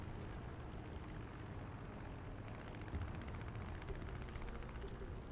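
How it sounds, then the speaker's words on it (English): Distant gunfire crackles through a dense, rumbling battle din in War Thunder, with scattered shots and bursts of rapid machine gun fire, the sharpest volley arriving midway. "you can hear some gunshots, some machine gun."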